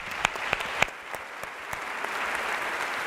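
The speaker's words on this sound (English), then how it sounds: "Big round of applause for Hannah." An audience applauds at a talk on media and kids, with steady, moderately distant clapping, a few sharper claps standing out near the start, and the applause holding through to the end.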